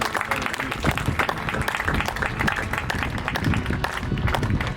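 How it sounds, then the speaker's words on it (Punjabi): A congregation at a drive-in church service claps hands together in thanks to Jesus, producing a dense, continuous, fairly loud patter of many clapping hands that holds steady throughout. "ਆਪਣੇ ਹੱਥਾਂ ਦੀਆਂ ਤਾਲੀਆਂ ਦੇ ਨਾਲ ਅਸੀਂ ਉਹਨੂੰ ਥੈਂਕ ਯੂ"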